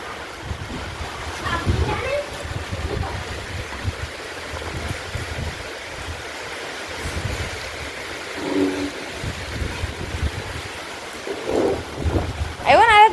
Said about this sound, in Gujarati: તો વરસાદ ચાલુ સ્ટાર્ટ થઈ ગયો મસ્ત.